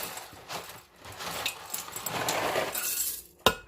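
Barilla whole grain pasta tumbles into a pot of sauce, a busy rustle of dry pieces with scattered clinks and rattles building over a few seconds, then a couple of sharp knocks at the end.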